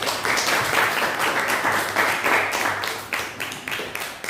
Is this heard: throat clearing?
no